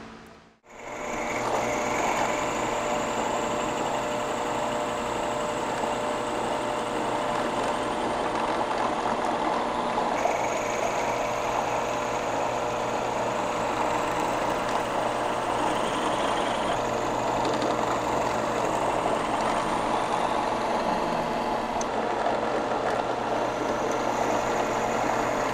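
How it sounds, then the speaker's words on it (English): A drill boring holes through the handle of a D-guard bolo knife, producing a long steady whine and motor drone at close range, constant and unbroken after a brief start, with no speech. "so I'm gonna drill the back hole first"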